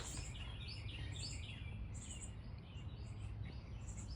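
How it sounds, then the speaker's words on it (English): Faint high chirps from a bird outdoors on a pretty day flicker over a low steady background hum, quiet and distant, with no talking. "Oh, there was a bird."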